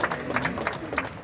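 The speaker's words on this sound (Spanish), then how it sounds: "Un aplauso." Crowd of family and friends applauding at a memorial gathering for Blas Correas, a brief spell of scattered clapping outdoors with a few distinct claps standing out, moderately loud, with voices mingled in.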